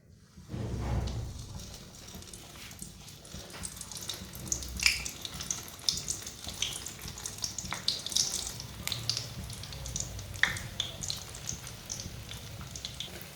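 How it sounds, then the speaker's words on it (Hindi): Kachoris frying in hot oil in a kadai, giving a continuous fizzing sizzle with scattered crackles and pops, set off by a brief soft thud as they go in. "अब इसमें कचौरियाँ डाल लेंगे एक एक करके"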